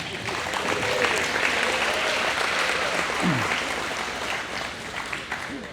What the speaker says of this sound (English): give yourselves all a round of applause for coming out